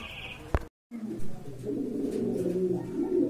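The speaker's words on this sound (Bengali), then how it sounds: "এই যে দেখলেন আপনারা খুবই সুন্দর সুন্দর কবুতর রয়েছে এখানে" Pigeons at a bird market cooing close by in a steady low murmur, with a brief high tone and a short gap before the cooing resumes.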